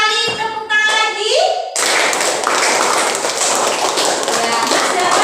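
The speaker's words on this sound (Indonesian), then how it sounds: "Bagus sekali, tepuk tangan lagi." Classroom clapping breaks out after a moment of tonal, sing-song voices, then continues as a lively burst of many hands clapping together at close range.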